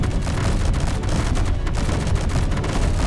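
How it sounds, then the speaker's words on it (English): An explosion mixed with sustained weapon fire in the video game Space Engineers makes a dense, continuous barrage of booms and rapid shots. It stays loud for the full few seconds with no speech. "Oh, there we go. There's an explosion."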